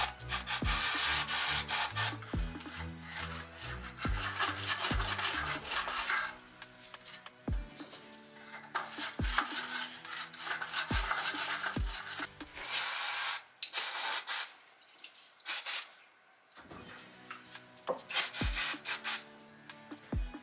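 A brush scrubs chrome moped parts during cleaning, giving close, loud, rhythmic rubbing strokes broken by knocks and clatters of metal parts, with a few short pauses.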